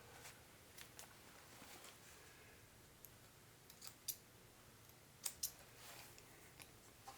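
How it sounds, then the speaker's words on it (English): Scissors snip threads off a jeans pocket in a few quiet, sharp isolated cuts over faint room noise, close but soft, with no talking. "So cut those threads off."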